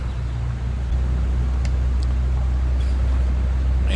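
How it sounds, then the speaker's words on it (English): Rear engines of a fishing boat in the Barents Sea running up, a loud steady low drone with a constant heavy hum and faint clicks above it, with no speech. "Start the rear engines back up. You can hear that thing cranking up,"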